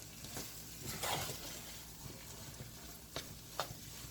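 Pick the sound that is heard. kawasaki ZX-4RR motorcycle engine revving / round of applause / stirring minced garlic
stirring minced garlic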